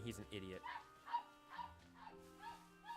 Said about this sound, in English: Sorry if you hear the dog barking.